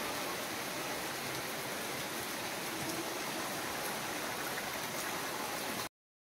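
Heavy rain pours outside a house, a steady broadband hiss of dense drops that stays even and continuous for about six seconds before cutting off abruptly, with no voices.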